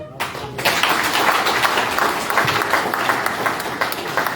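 Applause for Honourable Kirago at a Kiambu political gathering in Kenya: a dense, steady crowd clapping that swells in after a brief quiet start and carries on evenly, filling the space.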